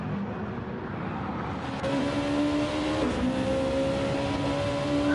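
Race car engines in the video game Gran Turismo 7 drone loudly and continuously during an endurance race, with a rising whine as one accelerates, the roar steady and close with no talking.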